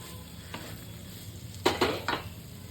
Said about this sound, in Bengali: এই পটল দিয়ে দিলাম, আলু দিয়ে দিলাম।